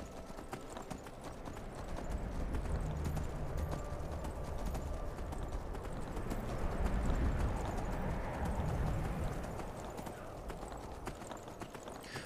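Horse hooves clip-clop steadily as a mount travels along a road in Skyrim SE, a quiet rhythmic trot that swells a little midway and then settles, with no one talking.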